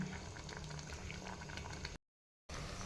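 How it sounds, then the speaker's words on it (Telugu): A pot of liquid bubbles in a steady, low rolling boil close up, broken by a half-second cut to silence before the bubbling resumes. "ఇది బాగా బాయిల్ అవుతుంది కదా"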